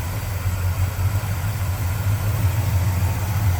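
A 1964 Chevrolet Chevelle Malibu SS with a 283 V8, headers, Edelbrock intake and Edelbrock carburetor idles steadily, a smooth low rumble that stays even and close throughout.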